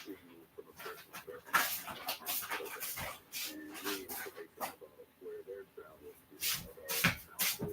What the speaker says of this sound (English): Sorry, our dog's being a little funky.